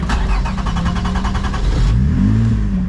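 The Poor Man's Lotus with its new motor, revving hard with a fast pulsing buzz, then dropping into a lower rising and falling engine note, loud and close.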